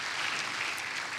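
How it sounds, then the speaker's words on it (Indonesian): Congregation applause at a church worship service, a dense steady wash of many hands clapping together for the whole stretch, fairly distant and diffuse, with no talk over it. "Saya ingin kita tepuk tangan buat Tuhan yang luar biasa Bapak Ibu."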